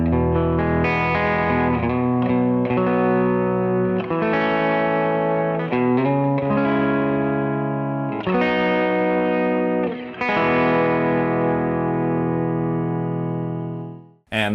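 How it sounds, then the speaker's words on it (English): An electric guitar plays a clean tone through a Kali 76 compressor pedal with a touch of BigSky reverb, strummed chords and melodic lines ringing evenly and sustained, loud and close, alone throughout. "here is my clean tone with the Kali 76 on"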